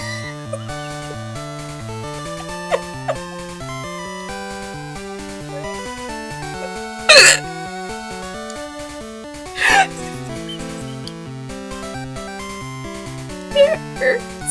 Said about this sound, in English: Trying to scare the hiccups out of me?